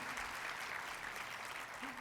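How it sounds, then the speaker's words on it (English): An audience at Vital City gives a steady wash of applause that holds for about two seconds at a moderate distance, with no clear voices above it. "How many people have been to Vital City before? By applause."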